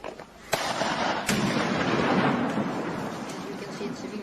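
Gunfire in the Donbass area during the 2014 war in Ukraine, aimed at civilian buildings: two sharp cracks early on over a steady dense rumble of distant fire and noise, with no talk.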